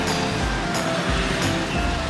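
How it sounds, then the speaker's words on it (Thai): Sea waves roll in at a beach resort in Cha-am, heard as a continuous broadband rush with surges swelling and easing about every two-thirds of a second, loud and near. "ตรงนี้มันก็จะเป็นทะเลเลย"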